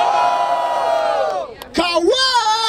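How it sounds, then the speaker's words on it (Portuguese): Crowd cheering and whooping at a freestyle rap battle in Barueri, loud and close, swelling into rising shouts after a brief dip, with a host's voice blending into the roar. "Barulho para as rimas do Cauê!"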